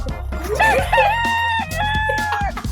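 A human voice imitates a rooster crowing, a loud, close, drawn-out cock-a-doodle-doo with rising and falling pitch.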